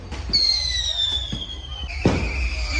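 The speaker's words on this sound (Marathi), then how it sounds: "हात जल्लाय तरी पण फटाके वाजवायला थांबत नाही" Firecrackers and rockets go off close by at a village festival immersion for the deity Bahiri: sharp bangs over a long descending rocket whistle, then a louder blast near the end, with crowd noise underneath.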